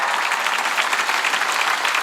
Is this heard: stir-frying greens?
no